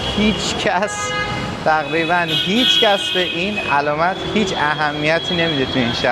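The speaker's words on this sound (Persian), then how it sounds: "خیلی بوق میزنن اینجا آقا." Car horns honk repeatedly in busy Indian city street traffic, with short and longer toots layered and overlapping under someone talking close to the microphone.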